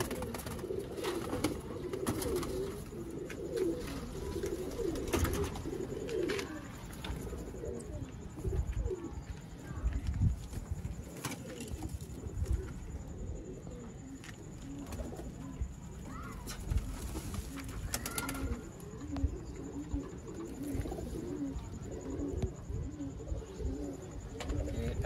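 Pigeons coo in soft, repeated low calls at close range, alongside scattered chirps, wing flutters and faint shuffling.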